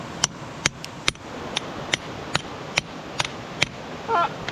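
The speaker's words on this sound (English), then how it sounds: "There's just no good spot to hammer anymore." A hammer strikes rock while hunting for amethyst geodes, about ten sharp, evenly spaced taps over a steady outdoor background, fairly faint and without talk.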